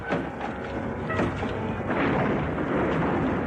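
A thunder and lightning sound effect plays as a sustained, loud rolling rumble that swells near the end, a deep continuous roar with no voices over it.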